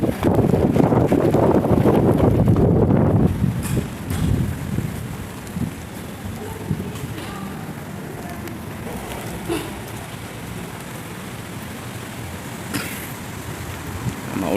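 Heavy typhoon rain pours down around tall buildings, loud and dense at first, with wind buffeting the microphone, then settling into a steady, softer hiss of rainfall.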